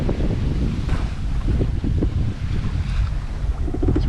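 Sailboat under sail on the open ocean off Catalina, making about six knots, with steady wind rushing across the microphone and water washing and slapping against the hull throughout.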